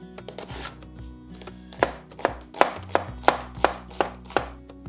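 A ProCook Nakiri knife chopping vegetables for chicken pot pies, starting with soft cuts, then a run of crisp, evenly spaced thuds on a board, close and with no talking.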